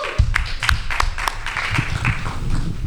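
Scattered audience applause at a recovery conference in Pasadena, a loose patter of separate claps, fairly close and moderately loud, with no talk over it.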